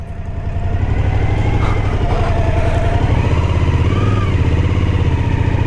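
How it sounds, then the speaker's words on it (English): A motorcycle engine on a road in Dakar, Senegal, swells quickly to a loud, steady, close-up drone as the rear wheel spins, keeping a rough, throbbing tone throughout. "Oh, got a bit of wheel spin."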